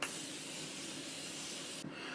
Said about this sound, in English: I'm just gonna give our face one last spritz with this Continuing Setting Spray by Morphe.